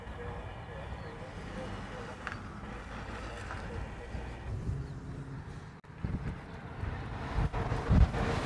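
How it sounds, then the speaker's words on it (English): Steady wind gusting outdoors at Honolulu airport, a continuous broadband rush with louder buffeting toward the end, with faint speech in the background. "The wind is really picking up the last 10 or 15 minutes."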